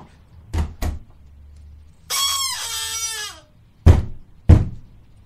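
A front door slams shut twice in quick succession, followed by a crowing, rooster-like squawk, then two loud knocks on the door, close and distinct with no talking.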